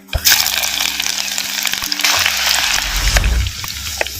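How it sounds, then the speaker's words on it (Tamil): Chopped small onions (shallots) hit hot oil already popping with mustard and cumin seeds, giving a loud, steady crackling sizzle that flares and deepens near the end, with no voices. "ஐம்பது கிராம் சின்ன வெங்காயத்தை உரித்து வெட்டி சேர்த்துக்கிறேன்"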